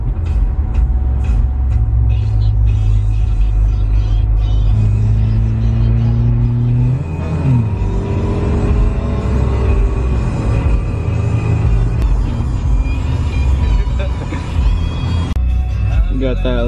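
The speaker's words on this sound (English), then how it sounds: "Got that Lambo pulling through, boy." A Lamborghini rumbling past with a deep, steady engine roar and shifting pitch as it moves through, loud and close throughout, with people talking over it.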